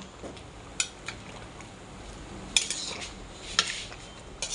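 Chicken afritada stirred in a cooking pot, a spoon scraping and clinking against the metal in several sharp taps over a soft, steady background.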